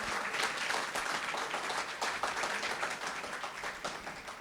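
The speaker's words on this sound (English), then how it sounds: "a round of applause once again for Mr. Edwin Tong." An audience at a National Day celebration at Sri Senpaga Vinayagar Temple gives a sustained round of applause, dense, even clapping from many people filling the hall for several seconds.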